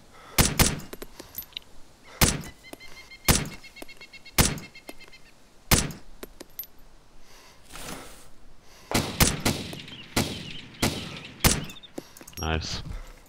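Gunfire in the video game Arma 2 DayZ Overpoch, a series of sharp, spaced shots with a few quicker clusters near the end, fairly close, with voices speaking in between.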